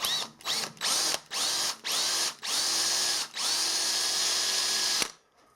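A cobalt drill bit bores into a stud from a centre-punched mark, with several short whining bursts of the power drill followed by one long sustained run, loud and close, ending abruptly in near silence.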